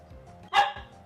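A dog gives a single short, sharp bark, fairly close, over a low steady background hum with no one speaking.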